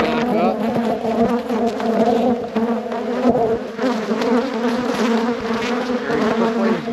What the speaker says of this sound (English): there's the bees. Yes, they are in there.